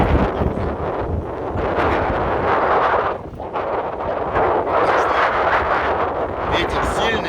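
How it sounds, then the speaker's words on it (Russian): A strong warm wind gusts across the beach at Ureki, roaring and buffeting the microphone in a loud, continuous rush with only a brief dip before the gusts return. "ветер сильный, ветер теплый"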